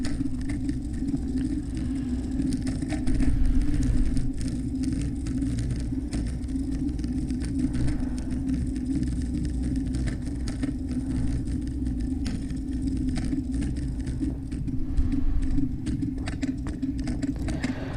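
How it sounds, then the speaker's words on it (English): Kick scooter rolling across a bridge, a steady low rumble of small wheels on pavement with a faint rapid patter and clatter as they strike cracks, continuous and close with brief louder surges, no talking. "I do make plenty of noise as I hit the cracks, which alerts the pedestrians"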